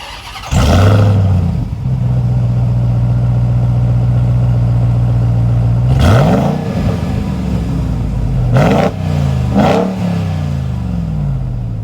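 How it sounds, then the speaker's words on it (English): A 2022 Ram 1500 TRX pickup truck's exhaust, loud and close, settling into a long steady idle before two sharp throttle blips and a shorter rev near the end. "let's take a listen to the sound of this exhaust"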